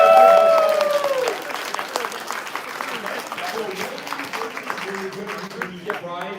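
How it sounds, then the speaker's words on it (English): An audience at the TF Con 2024 convention claps and cheers, steady applause continuing under a speaker's amplified voice, fading slightly as it goes on. "you should all give yourselves a round of applause"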